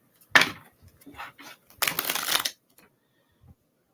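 Tarot cards are handled and shuffled in short riffling bursts, a quick snap, a few soft rustles and then a longer papery flutter, close and quiet with no talk.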